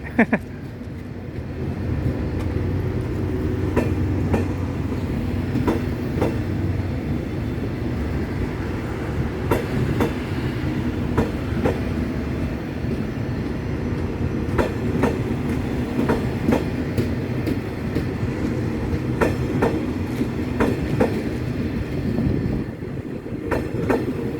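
The Thaksinarath special express train 31 rolls out of Bang Sue station with a steady rumble and repeated clickety-clack of wheels over rail joints, continuous and fairly close.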